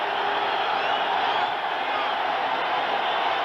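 Broad, steady roar of a stadium crowd cheering at an Eagles football game against the New York Giants in Philadelphia, 1990, a dense wall of noise filling the whole stretch with no clear breaks.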